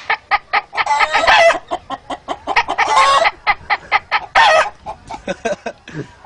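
A person vocally mimics a hen cackling after laying an egg: rapid, rhythmic clucks broken by three louder drawn-out squawks, close and loud with no other sounds.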